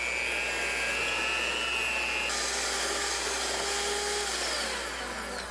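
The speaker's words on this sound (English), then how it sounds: "I'll blend that with my electric hand mixer." An electric hand mixer whirs steadily and loudly as it creams brown and white sugar with butter for pumpkin chocolate chip cookies, a continuous high motor whine with one shift in pitch partway through.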